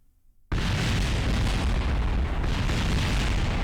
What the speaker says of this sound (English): this is gonna make big explosions.